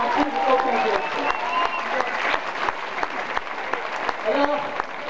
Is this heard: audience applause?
yes